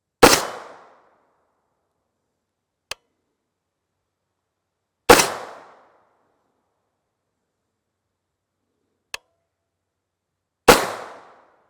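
Three sharp rifle shots from an 8.6 Blackout with a 280-grain load and a 16-inch Faxon barrel crack out loud and close, spaced several seconds apart, each decaying quickly into silence, with faint small clicks in between.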